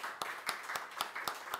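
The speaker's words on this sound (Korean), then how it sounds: "우리 남자분들을 위해서 심창에 박수 한번 드립니다" Rhythmic clapping from a church congregation during a Sunday service, with about seven evenly spaced, sharp claps in unison over steady background noise.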